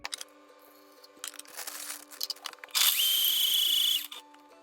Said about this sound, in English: I'm gonna take some frozen pineapple and put it in the blender with my coconut milk